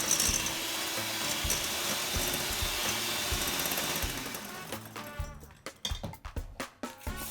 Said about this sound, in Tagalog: Gamit ang electric hand mixer or pwede din ang hand whisk, i-mix ito until you get a creamy consistency.